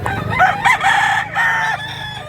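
At a rooster sale, two rising crows ring out close and loud, one after the other, with clucking and a low background hum.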